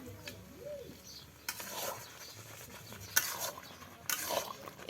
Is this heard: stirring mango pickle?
yes